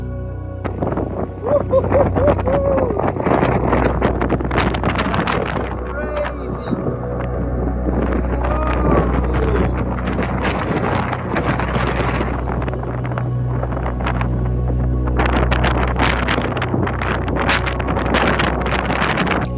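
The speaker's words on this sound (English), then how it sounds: "And the wind won't leave us alone." Strong gusting wind buffets the microphone at a lava viewing spot near an erupting Icelandic volcano, a loud continuous low roar throughout with some voices talking faintly beneath it.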